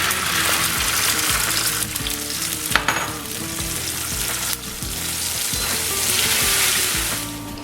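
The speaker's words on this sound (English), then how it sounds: "So we're going to put our tomato on top just to stop that cooking process so our garlic is not going to burn." Garlic sizzles loudly in a paella pan as tomato goes in for a vegan Spanish paella, a steady close frying hiss with stirring scrapes and a few sharp clatters, no voices.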